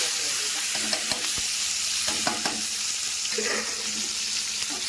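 Chopped onion, tomato, chili and spices sautéing together in hot oil produce a steady, close sizzle with occasional stirring clicks and scrapes, no talk.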